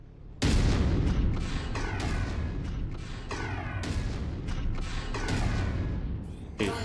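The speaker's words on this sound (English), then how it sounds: "Getting ammo explosion." Ammo explosion of a destroyed Centurion mech in a MechWarrior game, heard as a loud sustained roar of booming blasts and rumbling debris with repeated bursts over several seconds, no talk.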